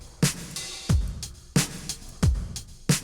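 Drum loop processed through a small plate reverb with pre-delay and a high cut filter: punchy kick and snare hits in a steady repeating pattern, each hit trailing a short bright wash, alone without talking.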